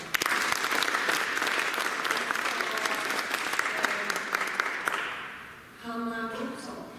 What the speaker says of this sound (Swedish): Tack så jättemycket och en applåd till Sverige.